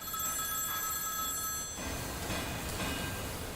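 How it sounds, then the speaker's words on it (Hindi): A telephone rings with a steady, shrill electronic bell tone in an office, sounding alone and fairly faint against a constant background hum. "सर मेन ऑफिस से फोन है सर।"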